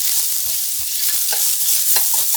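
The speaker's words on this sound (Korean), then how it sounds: "팬에 식용유 1스푼 넣고 중약불에 달궈지면 다진 마늘 넣고 달달 볶아" Minced garlic fries in cooking oil in a pan over medium-low heat, making a loud, dense, continuous sizzle close up, with light stirring taps throughout.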